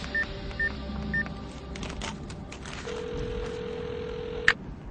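A telephone is dialed to place a call, with a few short keypad tones followed by a longer sustained tone over a muffled room background and a sharp click near the end.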